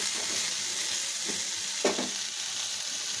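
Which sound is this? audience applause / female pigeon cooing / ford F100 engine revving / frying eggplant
frying eggplant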